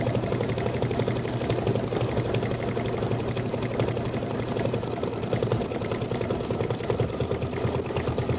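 An embroidery machine stitches out a membrane fill on a quilt block, giving a steady rapid needle chatter over a motor hum, continuous and close without pause.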